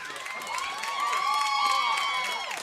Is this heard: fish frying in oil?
no